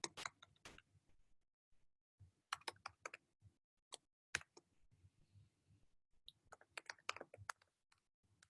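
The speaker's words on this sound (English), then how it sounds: "the only thing I need to do is I just need to type in plot." Keys clack on a computer keyboard as someone types a short command for an R programming session, in scattered clusters of sharp, close clicks with pauses between bursts and no speech.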